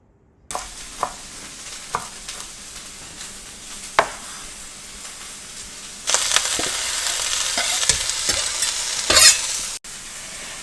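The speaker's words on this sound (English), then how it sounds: "this has got really hot. I'm going to put in some olive oil." Olive oil sizzling in a very hot dual-use pan, a steady close crackle punctuated by sharp clinks and scrapes, swelling into a louder hiss partway through before cutting off abruptly.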